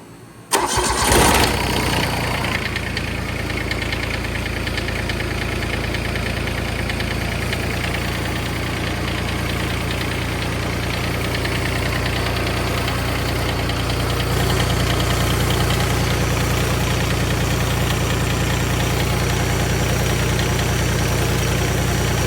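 A John Deere 330 engine cranks and fires with a loud burst, then settles into a steady, continuous idle heard up close for about twenty seconds.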